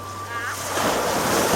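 Ocean waves meet and wash around La Manok Island in Masbate, Philippines, a broad rushing surf that swells louder, mixed with wind buffeting the microphone.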